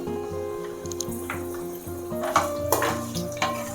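Peeled garlic and dried red chilies fry in oil, giving a steady close sizzle with light crackles and pops, moderately loud, with a constant background hum and no speech.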